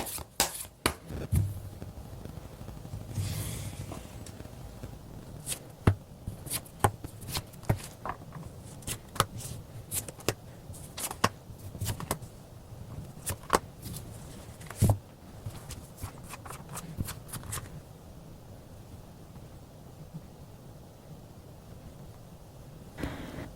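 Tarot cards being shuffled and drawn by hand, a series of crisp, irregular riffles and slaps close by, spaced through a quiet room, with brief pauses between bursts.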